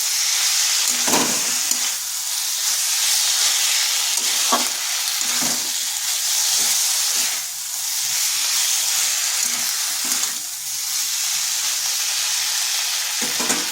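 Spice paste for a fish curry with taro sautés in a pan, giving a loud continuous sizzle and hiss that swells and eases, with occasional spatula scrapes and knocks.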